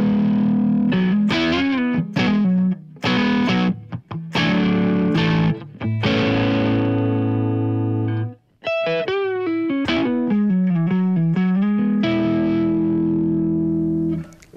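Electric guitar played on the neck pickup through a Marshall YJM100 100-watt amp head, with warm distorted chords and sustained single notes in bursts separated by short pauses, loud and close with no talking.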